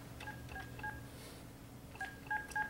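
Keypad tones from a cellular phone being dialed to reach a giveaway winner, short paired beeps in two quick bursts separated by a pause, moderately close over a faint background hum.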